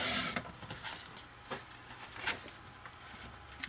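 Paper for a scrapbooking explosion box trimmed with a dulling blade: soft, close scraping and rasping strokes in short repeated passes, fairly quiet and with no talk.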